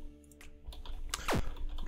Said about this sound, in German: Man hört vielleicht meine Tastatur.